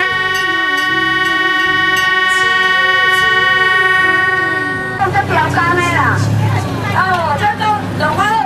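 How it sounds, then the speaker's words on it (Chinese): Small sightseeing train running on a rural tour, a loud sustained tonal engine hum with steady harmonics, then rolling noise under a person talking over a loudspeaker in the second half. "咱就是坐咱三代版的小火车哦"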